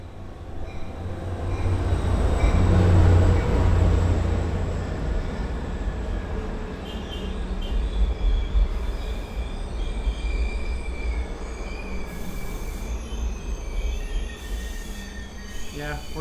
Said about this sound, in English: we're gonna watch this train, or we're gonna try to watch this train.